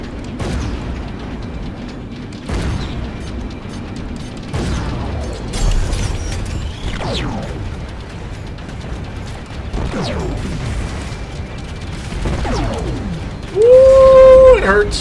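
Mini torpedoes launched in bursts from a spacecraft and exploding in Strike Suit Zero, several whooshing launches and dull booms spaced every couple of seconds, ending in a loud burst, with someone talking between them.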